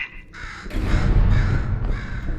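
Crow cawing in the puzzle game Portal 2, one loud, harsh caw up close followed by a rough squawking burst, with no talk.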